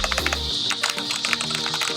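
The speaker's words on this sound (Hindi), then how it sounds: "मैकेनिकल का आवाज़ सुन सकते सामने, आवाज़ ये रेड है इसलिए ज़्यादा आवाज़ नहीं है" Fingers type rapidly on a CosmicByte Artemis CB-GK-31 mechanical gaming keyboard with red switches, producing a dense, fairly soft clatter of keystrokes, close up, with no talking.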